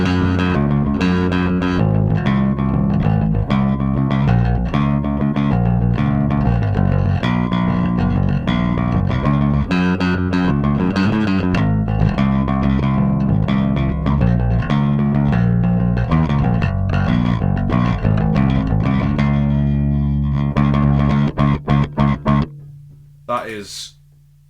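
A bass guitar played with a pick runs through a Full Moon Distortion pedal, with gritty, driven riffing and steady picked attacks for over twenty seconds before it cuts off sharply near the end.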